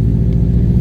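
A manual car drives with the window open, giving a steady low engine drone and road rumble close up, with no talking.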